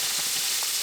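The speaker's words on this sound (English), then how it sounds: "And then I'll just drop that into the oil" A floured piece sizzling in hot frying oil, a steady, dense hiss that stays even throughout, close and alone.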